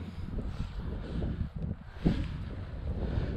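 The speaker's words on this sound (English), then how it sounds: "There's a little bit more wind now, so that sucks." Wind blows steadily outdoors at a trout stream during fishing, a broad low rumble of microphone buffeting with one stronger gust midway.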